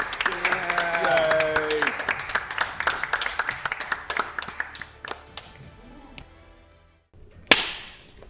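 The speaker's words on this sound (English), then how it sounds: "I love the claps" Irregular claps from a small group ring out sharply, mixed with voices early on, then thin out to sparse taps before one last louder clap.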